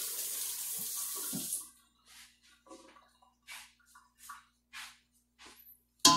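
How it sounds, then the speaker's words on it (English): Tap water runs steadily into a kitchen sink as a batter dish and hands are rinsed, a continuous hiss for about a second and a half, then stops, followed by soft scattered clinks and splashes of washing up. "put it in the sink, a little hand wash up."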